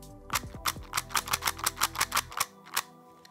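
A QiYi clock puzzle being turned, its magnetic mechanism giving a quick run of about a dozen sharp clicks in steady rhythm, close and fairly loud, ending in a couple of separated clicks.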